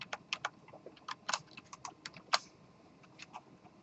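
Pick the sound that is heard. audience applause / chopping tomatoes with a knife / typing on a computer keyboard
typing on a computer keyboard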